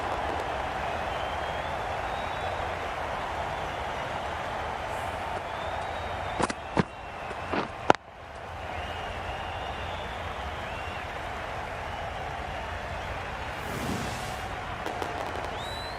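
A cricket crowd at an India versus Australia T20 match sends up steady, broad applause for the batsmen, with a few sharp knocks breaking through midway and a commentator's voice heard over it.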